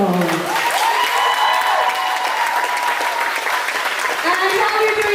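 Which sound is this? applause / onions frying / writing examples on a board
applause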